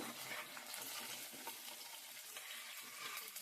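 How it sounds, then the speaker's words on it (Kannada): Chana dal frying in a little oil in a pan, a faint, steady close crackling sizzle with soft stirring scrapes and no talk. "ಸ್ವಲ್ಪ ಎಣ್ಣೆಲೆ ಬಾಡ್ಕೊಳ್ಳೋಣ."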